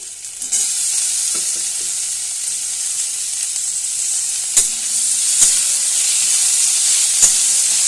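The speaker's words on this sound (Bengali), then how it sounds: "সামান্য একটু ভাজার পরই আমি টমেটোটা দিয়ে দিচ্ছি" Chopped tomato hitting hot oil with crushed ginger, chili and garlic paste sets off a loud, steady sizzle and hiss up close, punctuated by a few sharp clicks of a spoon against the pan, with no talking.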